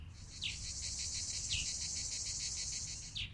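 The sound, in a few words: cicadas humming at night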